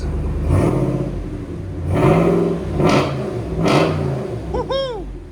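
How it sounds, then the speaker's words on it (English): A 2022 RAM 2500 with the 6.4L HEMI V8 and Flowmaster Outlaw exhaust revs loudly and deeply three or four times from idle, each blip swelling and falling back, close by. "Nice clean idle. There's idle on it, 84. 83, 84. Go ahead and give it gas."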